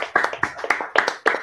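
A small group claps in a loose, uneven rhythm to close a football fan show, with distinct individual hand claps close by and no talking.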